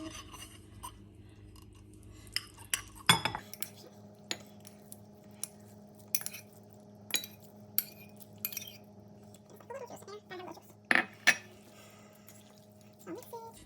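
A utensil stirring ramen noodles into a homemade paste in a bowl, with scattered close clinks and scrapes, a couple of sharper knocks against the dish, over a low steady room hum.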